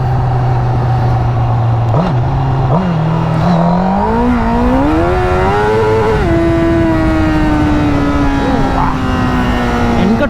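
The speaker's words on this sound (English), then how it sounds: "I just felt like riding a bike" Honda CBR Fireblade 1000 sport motorcycle riding, its loud engine note climbing through several gears with brief dips at each shift, then holding a steady high drone; wind noise underneath throughout.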